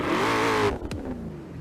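Engine of a Hoonigan Ford Bronco, an open-top offroader in Forza Horizon 4, roars loudly in a sustained high rev, then cuts to a lower rumbling idle after a brief click, heard close with no talk.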